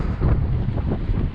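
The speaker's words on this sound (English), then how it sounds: "Yeah, it's windy. Sorry for the wind." Strong gusts buffet the microphone outdoors on a walking tour in Split, Croatia, a loud continuous low rumble of wind noise filling the whole short stretch without any talk.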